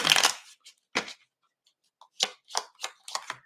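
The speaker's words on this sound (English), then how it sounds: "let's shuffle these cards." A deck of playing cards is shuffled in a quiet room: a long riffle burst, then a series of short crisp slaps and flicks as the cards are squared and cut.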